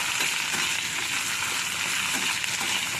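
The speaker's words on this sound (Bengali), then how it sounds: "আলুটাকে একটু নাড়াচাড়া করে নেব।" Potatoes fry loudly in a pan after being uncovered and are stirred through a dense, constant sizzle with some faint scraping, close by and without talk.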